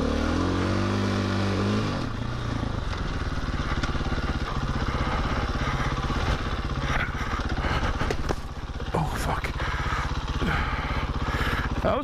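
Small motorbike ridden along dirt trails, its engine buzzing and revving continuously and loudly up close, with a brief drop in pitch partway through.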